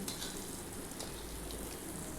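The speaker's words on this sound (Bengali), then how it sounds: "এবার এগুলোকে যথেষ্ট ভালো করে ভাজা ভাজা করতে হবে, একদম লাল লাল ভাজা ভাজা করতে হবে।" Pieces of elephant foot yam fry in hot oil, giving a steady, even sizzle close up with no voices, over a couple of seconds.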